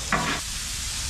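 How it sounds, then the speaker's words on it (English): Sizzling hiss of rice frying in a pan, with a short burst of louder crackle at the start before settling into a steady fry. "Getting it frying."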